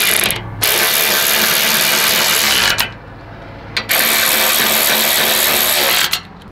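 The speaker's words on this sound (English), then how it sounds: "this is a very affordable ratchet you can buy on Amazon" A 12 volt cordless electric ratchet spins a 14 millimeter socket in loud, close, steady whirring bursts, three long runs broken by brief pauses.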